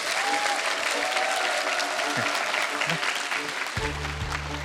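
A studio audience at a Korean broadcast mentoring program gives a big round of applause for the guest speaker, with dense, even clapping that continues throughout and a low hum entering near the end.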